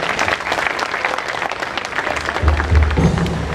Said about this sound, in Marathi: पुन्हा एकदा टाळ्या वाजवूया प्रियासाठी